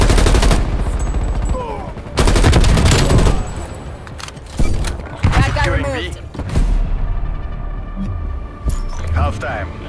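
Gunfire in the video game Call of Duty Black Ops Cold War: loud rapid automatic bursts in several volleys, with scattered single shots and background hum between them.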